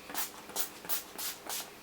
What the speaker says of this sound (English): another 2 spritzes of the Urban Decay All Nighter